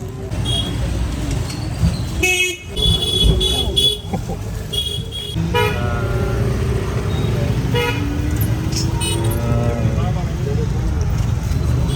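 Car horns toot repeatedly in a congested Indian traffic jam, short bright honks from several vehicles layered over a steady rumble of engines, with people talking nearby.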